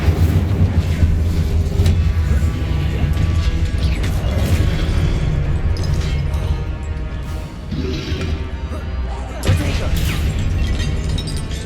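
Fiery spell blasts from Incendio and Confringo burst in Hogwarts Legacy, a series of booming explosions and crackling impacts over a constant rumble, with sharp hits arriving every second or so and a louder blast near the end.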